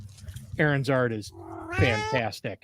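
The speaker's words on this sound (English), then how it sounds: "That was my cat." A cat meows loudly and drawn-out, close to the microphone, with several wavering yowls running under and between a person's speech.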